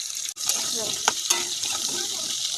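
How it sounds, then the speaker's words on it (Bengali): Diced potatoes fry in oil with a little salt, giving a close, steady sizzle marked by several sharp spatula knocks and scrapes as they are stirred in the pan. No voices. "দেখো বন্ধুরা আলুটা একটু নুন দিয়ে ভেজে নিচ্ছি অল্প করে।"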